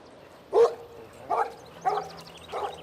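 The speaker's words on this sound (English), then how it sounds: "Great Pyrenees will bark through a fence to deter predators, but Angel barks at anything, including the" A Great Pyrenees livestock guardian dog barks four times, deep single woofs spaced about a second apart, heard from a moderate distance against a quiet outdoor background.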